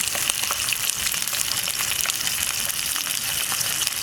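Fish fried in a pan: a steady, loud sizzle and crackle of hot oil close by, continuous and dense, with no one talking.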